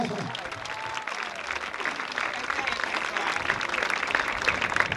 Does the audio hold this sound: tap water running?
no